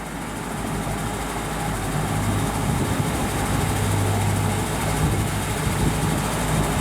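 A 1963 Chevrolet Impala's 327 V8 engine rumbles at a steady idle, low and continuous, close by with no talking.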